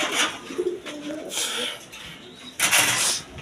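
Pigeons for sale cooing in a loft, soft low throaty coos repeating in short bursts amid faint background noise and occasional voices.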